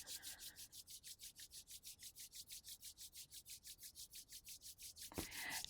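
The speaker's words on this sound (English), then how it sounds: "Begin by rubbing your hands together," Hands rubbing briskly together make a soft, rhythmic swishing of about five strokes per second, repeated evenly and heard up close in a quiet room.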